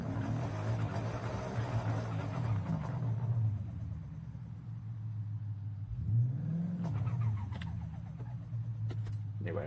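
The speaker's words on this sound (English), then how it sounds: "So why is the turbo engaging?" Car engine revving with a turbo in Forza Horizon 5, a steady droning engine note that dips and rises again midway, loud and continuous without a break.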